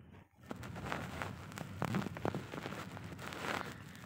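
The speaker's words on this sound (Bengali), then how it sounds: "মালয়েশিয়াতেও আজকে দুই তিন দিন ধরে এত পরিমাণ বৃষ্টি হচ্ছে বলার বাহিরে" Heavy rain falls outside a car moving slowly through traffic in Malaysia, a steady wash of hiss with scattered sharper drop impacts, heard from inside the vehicle with no talking.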